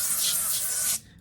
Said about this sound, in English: Oh, I'm going to spray the parchment.